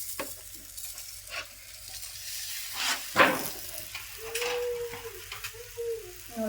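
Chapati laid on a very hot oiled griddle during festival cooking, giving a steady close sizzle with soft stirring and scraping, one brief louder crackle near the middle, and a faint background hum.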